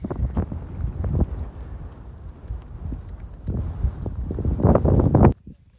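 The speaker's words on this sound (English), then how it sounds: "very windy." Gusty wind on the John Muir Trail buffets the microphone with rough, uneven roaring that swells and fades, loudest near the end before cutting off abruptly.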